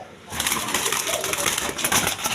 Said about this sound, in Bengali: এইখানে এক পেয়ার মডানা কবুতর আছে